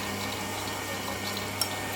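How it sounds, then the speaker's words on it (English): Liquid brownie batter pours steadily into a slowly running mixer, a soft continuous wet trickle and churning hum with one brief clink, alone and fairly quiet. "I'm going to carefully pour this in."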